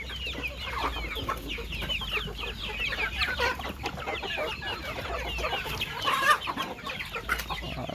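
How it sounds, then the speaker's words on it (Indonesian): Free-range village chickens (ayam kampung) clucking steadily as a flock awaits feed, a busy chorus of overlapping clucks with one louder call near the end. "kita akan disambut hangat oleh ayam-ayamnya kita"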